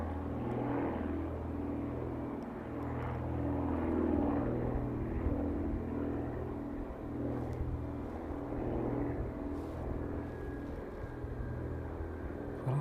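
An airplane climbs out from the runway at East Midlands Airport, banking early off the runway heading. A steady, distant low engine roar rumbles on throughout with only slight swells, and no voices are heard.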